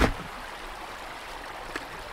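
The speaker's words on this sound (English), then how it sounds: "The river's not deep" Shallow river running over a ford on Bodmin Moor, a steady close hiss and trickle of water with a brief knock at the start and a small splash near the end.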